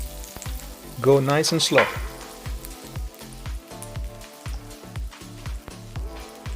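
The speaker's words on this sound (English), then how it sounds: "Hot pan, touch of oil and then butter." Oil and butter sizzle and fry in a hot pan for French toast, a steady crackle with a brief louder burst of sizzling near the start, while a person talks softly over it.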